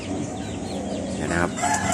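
Young nestling birds being hand-reared call in quick, thin, high chirps with short rising sweeps, layered over a steady background hum.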